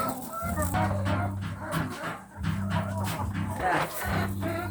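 Chickens clucking repeatedly at close range while being unloaded, with bursts of low, throaty calls in an uneven rhythm and people talking in between.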